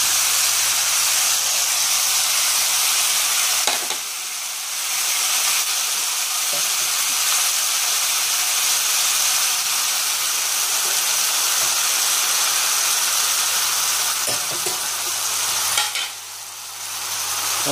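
Spaghetti and vegetables stir-fried in a hot pan for a Thai drunken-noodle dish with mushrooms, a loud continuous sizzle and hiss with brief dips as the food is tossed and stirred.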